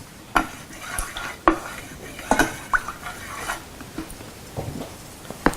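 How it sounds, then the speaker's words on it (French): A spoon scrapes and clinks around a bowl as shea butter and sweet almond oil are mixed for a hand cream, with irregular close taps and soft scraping strokes, no talking. "je rajoute les 25 g d'huile d'amande douce dans mon beurre de karité. Et je mélange le tout."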